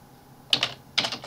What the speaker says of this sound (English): just start typing text